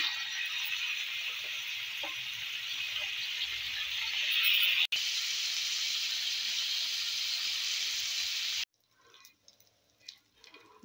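Chicken tikka skewers sizzle in oil on a dosa griddle, a loud steady broadband hiss that swells slightly, then cuts off abruptly, leaving faint quiet clatter afterward.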